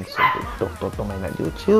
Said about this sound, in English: that is my dogs fighting and playing